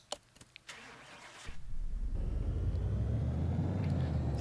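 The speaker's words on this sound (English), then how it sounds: "Engine sounds good." An AMC Pacer X engine starts in Car Mechanic Simulator 2018: a brief cranking whir, then the motor catches and settles into a loud, steady low rumble that continues to the end, with no talk.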